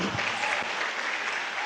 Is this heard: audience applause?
yes